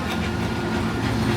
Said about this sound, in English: And there is that train coming in the station now at 1:21.